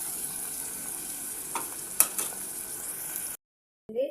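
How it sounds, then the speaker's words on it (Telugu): Onions, green chillies and curry leaves sizzle in a pan with oil as curry begins for a chicken dish. The hiss is steady and fairly close, with a few stirring scrapes, then a sudden stop and a short clatter. "ఆనియన్స్, పచ్చిమిర్చి, కరివేపాకు, బిర్యానీ ఆకు మొత్తం అంతా వేసుకొని ఇది లైట్ బ్రౌన్ కలర్ వచ్చేంత వరకు"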